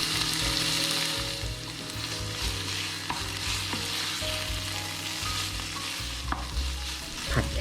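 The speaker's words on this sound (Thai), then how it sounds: "แล้วก็เติมหัวหอมซอยส่วนที่2ลงไปผัดครับ" Pork stir-fries in a hot pan with torn kaffir lime leaves and sliced shallots, a steady loud sizzle broken by the scrape and clatter of a spatula stirring.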